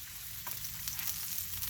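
Cooking oil sizzles steadily on a hot 22-inch Blackstone griddle, a continuous close hiss with faint crackles and no talking.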